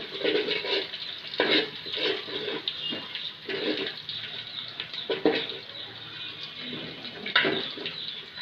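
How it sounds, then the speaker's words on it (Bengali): Polao rice for nalli biryani is poured into a cooking pot in several rustling, gritty bursts with short pauses between them. No one speaks. "চালটা ঢেলে দিচ্ছি"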